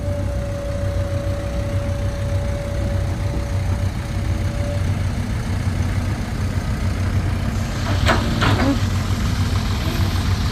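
Hino and Isuzu trucks idle in the dark, a steady low diesel rumble that holds throughout, with a brief clatter near the end and no talk.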